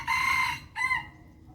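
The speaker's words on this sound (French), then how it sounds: "Quelques poules qui nous font quelques œufs." Rooster crowing in a Thai organic garden kept with a few hens, one loud close crow with a second shorter phrase following, no talk.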